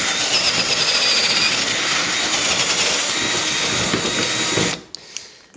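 A power drill whirs loudly and continuously as it cuts a slot in a Yamaha XTR130 tandem seat, then winds down and stops, followed by a couple of small knocks.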